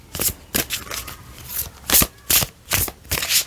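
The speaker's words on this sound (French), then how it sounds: "Donc je brasse, je fais le shuffle, je rebrasse, je fais le shuffle, je rebrasse, je fais le shuffle, je brasse." An oracle card deck themed on Brigitte Bardot is shuffled by hand, producing a series of sharp riffling bursts in an uneven rhythm, close and clear with no talk.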